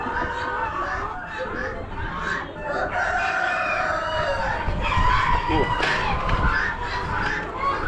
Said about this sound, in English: Some roosters.